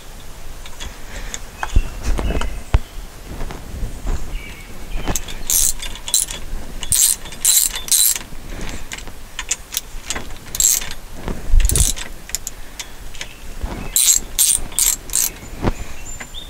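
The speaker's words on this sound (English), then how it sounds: "I have your basic part store steering wheel puller, lock plate depressor kit." A parts-store steering wheel puller being turned on a 1977 Jeep CJ-5 that sat for ten years, giving close, repeated ratcheting clicks in irregular bursts with short pauses between them.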